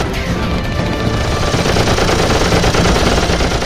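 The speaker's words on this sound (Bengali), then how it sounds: "ব্রিটিশ বাহিনীকে লক্ষ্য করে পরপর গুলি চালাতে লাগলো" A staged gunfire effect in a retelling of the Chittagong armoury raid: loud, rapid repeated shots fired at British troops in a dense, unbroken burst, close and with no voices.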